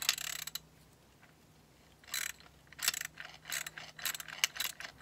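A hand ratchet tightens a camber plate bolt on a Mini Cooper, giving several quick bursts of sharp clicking with short pauses between strokes, close and fairly quiet.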